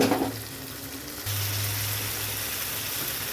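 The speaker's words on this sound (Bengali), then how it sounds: "এখানে অল্প পরিমাণে একটু জল দেব তো এটা ধুয়ে জলটা দিয়ে দিচ্ছি" Water poured into a pan of sizzling chicken cooked with tandoori chicken masala, a loud hissing sizzle that steadies into a continuous broad fry hiss with a low steady hum.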